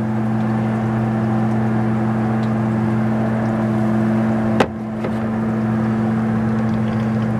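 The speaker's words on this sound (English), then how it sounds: "That sound you hear is my lift pump necessary to get the basement sink drained up to the level of the sewer line." Lift pump draining a basement utility sink up to the sewer line, a loud steady motor hum with strong low tones, broken by a brief click midway before the drone carries on.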